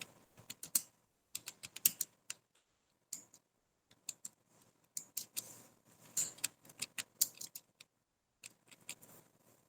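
Computer keyboard being typed on while entering accounting data in Tally, a soft, close series of irregular key clicks in short bursts and pauses.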